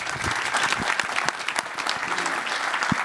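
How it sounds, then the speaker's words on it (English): Conference audience applauding a speaker before an aviation-themed talk, continuous close clapping with a few sharp individual claps standing out. "Give him a round of applause."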